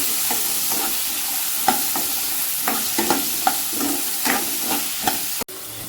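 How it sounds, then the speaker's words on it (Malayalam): Sambar ingredients stir and sizzle in a hot pan, a continuous frying hiss punctuated by repeated scraping and clinking strokes of a spoon, close and fairly loud, with no talking. "ഇട്ട് കൊടുത്തതിന് ശേഷം നന്നായിട്ടൊന്ന് ഇളക്കുക"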